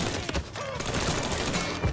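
Rapid volleys of gunfire from the crime action video game Mafia 3, dense and continuous bursts filling the whole stretch at close range with no speech over them.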